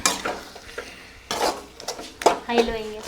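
Chopped tomatoes, three of them, go into a cooking pan while village-style prawn thokku fry is made, giving a few close clattering stirs and scrapes with brief sizzle, softly under the clatter and faint ambient noise.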